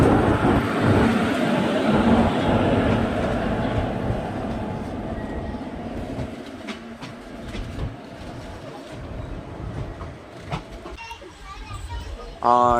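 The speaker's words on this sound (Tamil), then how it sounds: "இங்கே ஒரு ட்ரெயின் ரிவர்ஸ் ஆகுது ஷெட்டில் இருந்து வெளியே வருது" A train reversing slowly out of a shed rumbles nearby with low mechanical noise and squealing, while people and children talk in the background.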